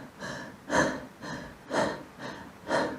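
Laboured, heavy breathing with the shoulder girdle fixed and neck accessory muscles working: three rhythmic cycles of loud, rasping inhalations alternating with softer exhalations, close and isolated with no talk.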